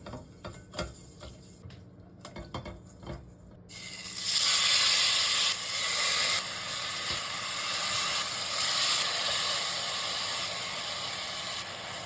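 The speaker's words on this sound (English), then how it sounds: "I'm gonna caramelize a little bit of brown sugar as well" Brown sugar caramelizing in a pot: a few sharp clicks and taps at first, then a loud, steady sizzling hiss rises and holds for several seconds, close and without voices.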